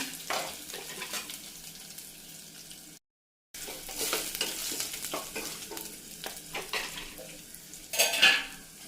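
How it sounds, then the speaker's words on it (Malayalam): Ginger and green chillies frying in a pan for lemon rice, stirred constantly: lively sizzling with repeated spatula scrapes and metal clatter against the pan, a brief gap partway, and a sharper clink near the end. "ഇഞ്ചിയും പച്ചമുളകും നല്ലപോലെ ഒന്ന് ഇളക്കി കൊടുക്കണം കൈ വിടാതെ ഇളക്കി കൊടുക്കണം"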